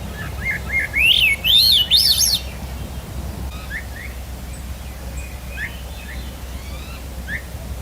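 Small birds give short, bright chirps and trilling calls picked up by a parabolic microphone. A loud burst of rising chirps opens the recording, then scattered faint tweets continue over a steady outdoor hiss.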